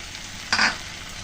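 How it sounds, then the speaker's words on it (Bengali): Shrimp and potatoes with spices sautéing in a pan, a brief close stir-and-sizzle burst over a low steady frying hiss. "মশলা দিয়ে আলু চিংড়ি সুন্দর করে কষিয়ে নিলাম।"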